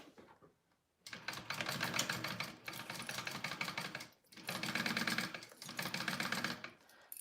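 Sewing machine running in two long bursts of rapid, steady mechanical stitching, basting a zippered pocket on a wallet, separated by a brief pause with quieter moments at the start and near the end.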